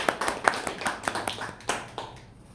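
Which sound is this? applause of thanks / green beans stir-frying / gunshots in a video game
applause of thanks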